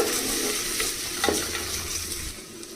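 A medium onion and a few mint leaves sizzle in two tablespoons of oil while being stirred, with close frying crackle and scraping stirs over a steady hiss, no voices.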